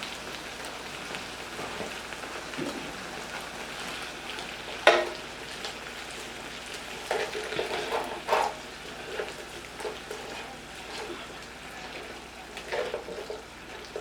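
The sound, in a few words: frozen shrimp sizzling in a pan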